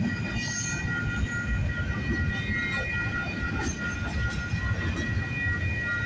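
A freight train rumbles steadily past nearby, with low wheel noise, faint clatter and a thin high squeal running throughout.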